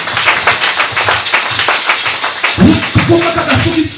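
A church congregation claps in quick rhythmic unison, a run of sharp hand claps with voices singing and calling out over them near the end.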